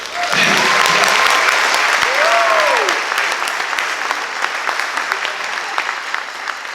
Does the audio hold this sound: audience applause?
yes